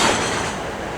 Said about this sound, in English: Sorry about the noise; it's next to the road.